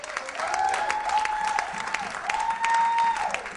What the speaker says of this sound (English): you hear that sound, you hear like people applauding